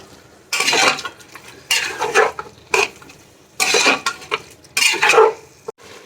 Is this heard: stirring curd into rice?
yes